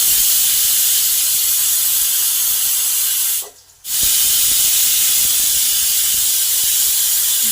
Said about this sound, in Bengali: মিডিয়াম হিটে দুটো সিটি দেব, তারপরে নামিয়ে নেব।